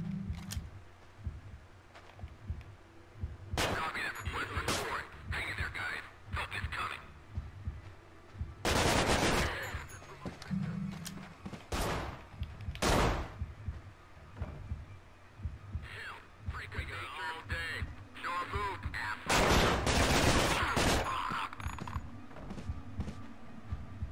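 Bursts of rapid assault rifle fire in the video game Manhunt, loud clusters of shots separated by pauses over a low throbbing hum, with occasional talking between volleys.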